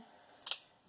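A single quick scissor snip through red tulle, short and crisp against a quiet room.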